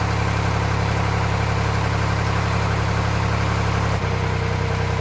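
A narrowboat's diesel engine runs steadily at about 1200 revs, a loud, even low throb with a constant hum that holds unchanged throughout with no voices.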